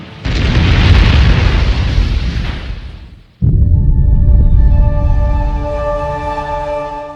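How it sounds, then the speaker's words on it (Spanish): A large rocket engine blowing up on a test stand, a huge roaring blast that rumbles for about three seconds, cuts off, then a second heavy roar with ringing tones that slowly fades; very loud and no speech. "En el desarrollo de estos motores de cohetes grandes, muy a menudo se autodestruían en una plataforma de prueba."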